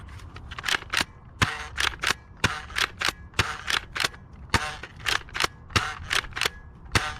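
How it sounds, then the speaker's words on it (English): A Nerf Pro Gelfire Ghost gel blaster fired downrange outdoors, a steady series of sharp, loud pops spaced roughly every half second, close and with no talk. "Now let's fire some shots downrange."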